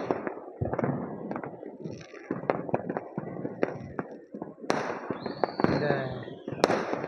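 Diwali fireworks and firecrackers go off at night in sharp, scattered bangs and pops, some near and some distant, with a whistling rocket rising near the end, while a voice speaks briefly over the noise.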